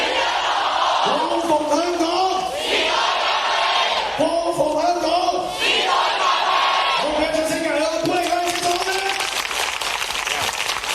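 A large pro-democracy protest crowd in Hong Kong chants and yells in unison, loud rhythmic shouted phrases rising and falling over a constant roar of voices nearby.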